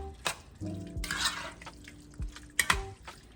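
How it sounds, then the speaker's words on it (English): A regular spoon scrapes and taps against a pan as food with tomatoes is stirred, a few distinct clinks and scrapes close up, fairly quiet, with soft bubbling between strokes. "Alright, so now I got a spoon. It's easier to stir with that."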